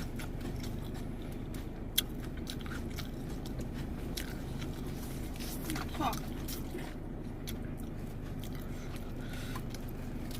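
Someone bites and chews spicy salmon salad while eating inside a car, with soft wet chewing and crunching under a steady cabin rumble and intermittent talk.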